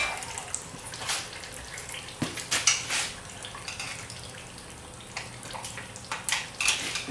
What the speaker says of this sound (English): Oh, dripping everywhere. Tilt it up, let it drain out a little bit.